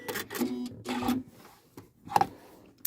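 A Janome sewing machine stitches through two layers of chunky, slightly stretchy denim in short mechanical bursts, pausing between runs, with a sharp click near the end.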